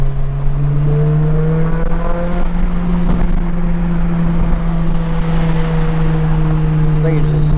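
An Acura RSX fitted with an N1 exhaust pulls hard under acceleration, its steady droning engine note loud and close inside the cabin and rising slowly as speed builds.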